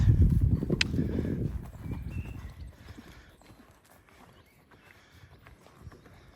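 Horse hooves cantering in a riding arena, loud and thudding at first, then fading into a softer, quieter rhythm.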